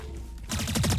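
Rapid automatic gunfire in the video game Valorant starts abruptly halfway through, a fast, loud stream of shots with no talking.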